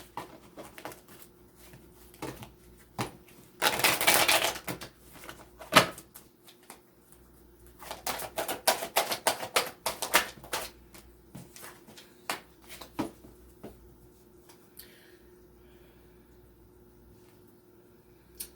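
Oracle cards from a Journey of Love deck are shuffled by hand in bursts of papery riffling and slapping, broken by soft knocks and pauses, close and moderately loud, with no speech.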